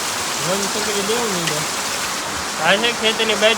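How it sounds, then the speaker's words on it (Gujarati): Heavy rain pours steadily over farm fields, a dense continuous hiss running throughout while voices talk over it in the foreground. "એટલો ફૂલ વરસાદ વહરવા મળ્યો છે જુઓ"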